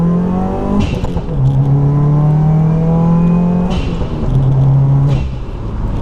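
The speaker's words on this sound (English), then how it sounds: "you can hear the car revs quicker, right?" A 2015 Subaru WRX engine with a lightweight flywheel revs hard, rising and falling in pitch several times with quick gear changes, loud and close with no voices.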